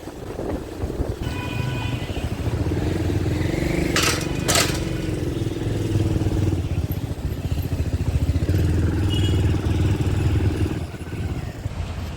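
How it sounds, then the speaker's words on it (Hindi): A motorcycle engine runs steadily for about twelve seconds as the bike rolls into a bike parking area outside a grocery store, with wind buffeting the microphone and a brief sharp noise partway through. "where we are parking our bike"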